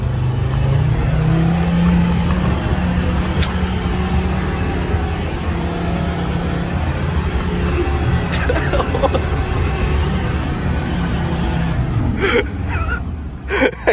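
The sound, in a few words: Land Rover engine revving off-road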